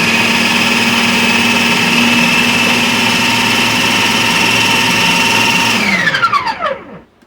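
Blender running on high, chopping garlic into a Colombian seasoning paste: a steady loud motor whine with no talk, then winding down and stopping near the end.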